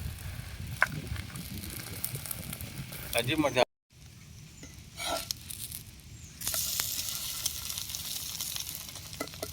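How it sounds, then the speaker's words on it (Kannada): Egg omelette sizzling in a pan while browning on both sides, steady crackling hiss under a person's talking, broken by a brief silent cut midway, then louder frying afterward. "ನೋಡಿ ಆಮ್ಲೆಟ್ 2 ಸೈಡ್ ರೋಸ್ಟ್ ಆಗಿದೆ."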